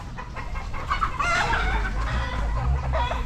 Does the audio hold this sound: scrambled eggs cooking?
no